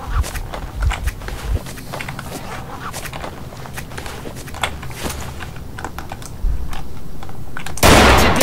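Gunfire from weapons in the game Stalker: Shadow of Chernobyl with the RMA Autumn Edition mod, a dense rattle of rapid sharp bursts that swells into a loud continuous roar near the end.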